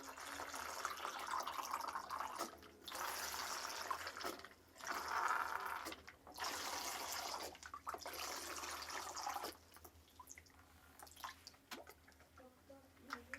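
Water is poured into a bottle in a classroom science demonstration until the bottle is half full. The pouring is quiet, running in several short streams with brief pauses, then fades to faint trickles.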